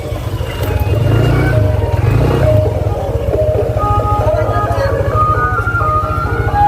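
A car engine rumbles close by and passes slowly through a busy village street during an ondel-ondel parade, with music, chatter and other street noise around it.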